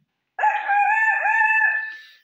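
A man imitates a rooster's cock-a-doodle-doo with his voice, one loud, sustained crow close to the listener that starts after a short silence and holds for nearly two seconds.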